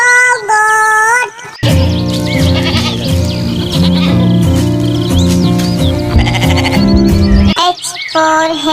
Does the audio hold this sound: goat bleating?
yes